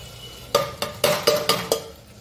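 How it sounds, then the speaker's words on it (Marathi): Leftover rice and sambar being stirred together in a pot at home, giving about six sharp scraping clinks of a spoon against the metal pot in an uneven rhythm, close and fairly loud with no talk. "इथे सकाळचं काय काय उरलेलं आहे ते त्याच्यात मिक्स करून टाकते"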